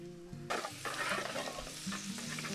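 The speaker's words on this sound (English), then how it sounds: "gonna add our garlic to our oil butter mixture" Garlic hits an oil and butter mixture and starts to sizzle, a bright, hissing fry that jumps up suddenly and stays steady and close, with some stirring and no talking.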